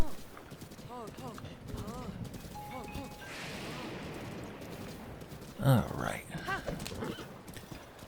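Horse hooves clip-clop and a whinny rings out in the rainy open world of Zelda: Breath of the Wild, the hoofbeats steady and close with a brief voice speaking over them.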